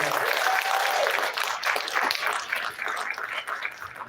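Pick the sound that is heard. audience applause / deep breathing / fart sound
audience applause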